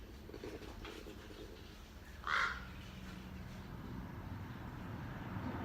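A single brief crow caw sounds at middle distance outdoors, faint against a steady low background rumble, with no talking.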